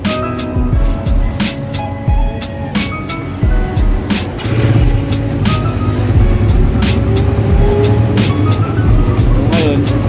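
Suzuki Raider 150 motorcycle engine idling steadily after an oil change, a close continuous putter with a rising note partway through, while someone talks over it.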